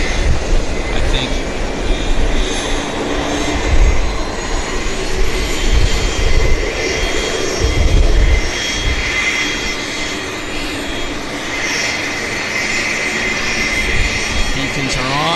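Regional jet engines spooling up at Vancouver airport, a steady, fairly loud whine and rumble running throughout, with a voice talking under it.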